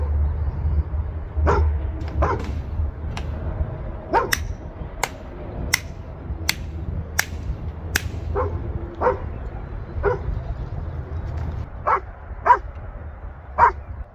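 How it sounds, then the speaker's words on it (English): A dog barks repeatedly in short sharp bursts, some with echoing yips off its own echo, scattered irregularly over a low background rumble. "You're just barking back at your echo now."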